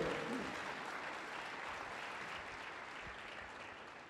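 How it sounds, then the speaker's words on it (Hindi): Congregation clapping in thanks to God at a worship service, a steady, dense wash of applause from many hands that holds for several seconds and fades slightly toward the end. "ताली बजाकर उस प्रभु का धन्यवाद करो।"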